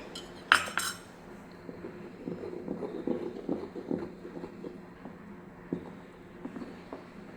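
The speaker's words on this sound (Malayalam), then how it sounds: "നമുക്ക് കുറേശ്ശെ ഇതേപോലെ ഒഴിച്ചു കൊടുക്കാം. ഒഴിച്ചു കൊടുത്ത് നമുക്ക് ഇളക്കണം." A spoon clinks and scrapes in a bowl as orange juice is stirred into orange cake batter, with a sharp knock at the start followed by steady, close stirring taps and scrapes.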